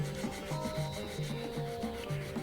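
Steady scraping rub of sandpaper on a plastic part of a Revell 1/48 F/A-18 Super Hornet scale model kit, in short repeated strokes under a faint background hum, with no talking.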